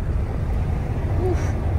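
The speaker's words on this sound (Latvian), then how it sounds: "Atrodos pašlaik Nebraskā, ārā vējš nenormāls" Strong wind buffets the outside of a Kenworth truck cab in Nebraska, a steady low roar and rumble that continues without break for the whole short stretch.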